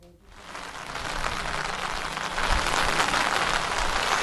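Heavy downpour in the Bopal-Ghuma area of Ahmedabad during a red alert, a dense steady roar of rain hitting surfaces that swells louder partway through and fills the whole scene without any voices.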